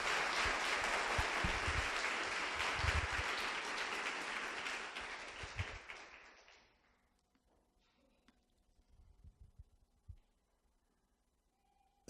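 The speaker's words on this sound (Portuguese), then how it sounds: "Vamos aplaudir a palavra de Deus?" Church congregation applauding together after a reading at a Catholic Mass, a dense wash of clapping that carries for about six seconds and then stops abruptly, leaving near silence with a few faint thumps.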